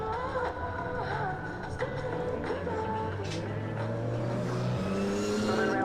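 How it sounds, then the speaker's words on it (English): Race car engines at Knockhill circuit drone and rise behind steady commentary, with several cars revving and sweeping past at middle distance before the green flag lap restart. "Sound of engines in the background"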